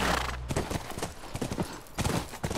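Rapid hoofbeats clopping across the ground near a ranch in The Last of Us, a steady galloping rhythm with a brief snort at the start, fairly close and prominent.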